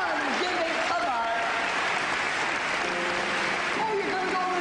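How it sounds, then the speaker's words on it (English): Audience applause in a church healing service, loud and steady throughout, mixed with a voice speaking and singing over it. "Give him a great big applause."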